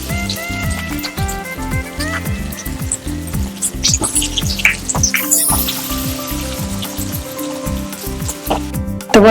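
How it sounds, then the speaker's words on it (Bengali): Eggs coated in cornflour batter fry in a pan of hot oil, a loud, crackling sizzle with bubbling and occasional clinks of a utensil, heard up close. "এভাবে আমি একে একে গোলার মধ্যে দিয়ে দিয়ে ডিমগুলোকে ভেজে নেব।"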